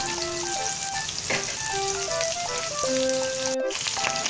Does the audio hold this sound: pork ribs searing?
yes